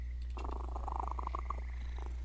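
A person imitates a cat purring with a close, rolling, fluttery purr lasting a second or two, then trailing off over a steady low hum.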